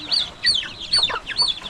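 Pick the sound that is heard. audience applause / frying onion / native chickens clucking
native chickens clucking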